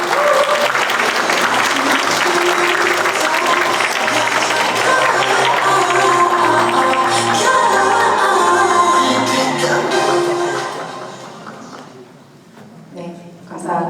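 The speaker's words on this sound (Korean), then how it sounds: "큰 박수로 오늘 학술대회를 서로 축하해 주시면 감사하겠습니다" An audience at an academic education conference in Korea applauds loudly and continuously with a few shouts mixed in, then the clapping fades out and a few scattered claps remain.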